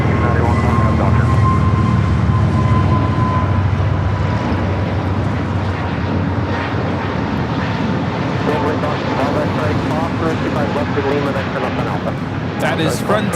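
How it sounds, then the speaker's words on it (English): A Frontier Airbus A320neo in Whooping Crane livery takes off from runway 25 right at Los Angeles airport, a loud sustained jet roar over background noise, with a voice talking over it. "That is Frontier 3304 taking off to Phoenix on the A320neo Ichabod, the Whooping Crane livery"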